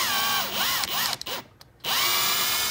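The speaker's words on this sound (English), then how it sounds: "we're gonna drill a little hole inside of it" A power drill whines loudly at close range, drilling into a dowel inside a guitar bridge thimble, its pitch rising and falling as it bites in, with a short pause before starting again.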